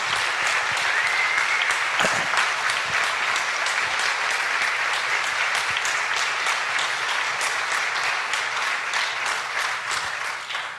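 Audience applause for a speaker at a book and music festival in Hawaii, a long sustained ovation of dense, even clapping at a loud level from start to finish.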